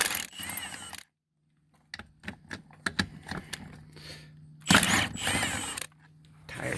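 A tire machine strips tires off a quad's wheels, giving loud bursts of hissing and grinding broken by a sharp run of clicks and rattles, then a near-silent gap before the noise rises again.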